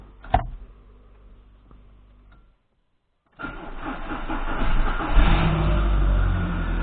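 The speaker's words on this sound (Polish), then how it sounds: "Auto nam odpaliło." An Audi A2 with a faulty electrical system, having CAN communication loss and a battery drain, cranks and fires into a steady, loud idle after a short silence, preceded by a faint click and low hum.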